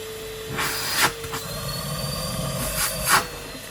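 A Numatic Henry vacuum cleaner rebuilt from street-found parts, running with a steady whining motor tone under bursts of clattering and rattling, close by, with a few sharp knocks.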